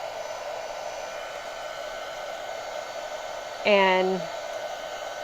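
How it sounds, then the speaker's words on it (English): A small handheld heat tool blows a steady, even whoosh as it dries a thin coat of Mod Podge, with a short voice breaking in partway through. "This is my little heat tool, and it doesn't take much"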